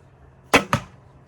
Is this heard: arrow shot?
yes